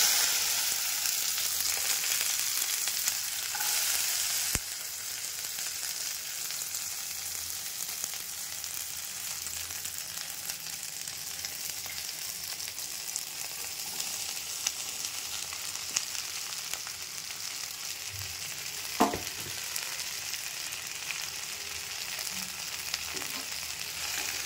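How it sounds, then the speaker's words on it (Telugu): Okra (bhindi) fries in a little oil in a kadai, giving a continuous close sizzle. There are occasional soft scrapes and clinks of stirring, the most noticeable one about two-thirds of the way through. "మనము కడాయిలో కొద్దిగా ఆయిల్ వేసుకొని ఫస్ట్ ఈ బెండకాయలు వేయించుకుందామండి."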